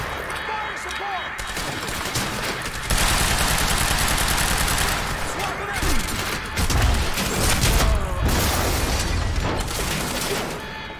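Sustained gunfire and fire support in the game Quantum Break: rapid automatic bursts and heavy booms pound over a rumbling background, loud and continuous through most of the stretch, with voices mixed in.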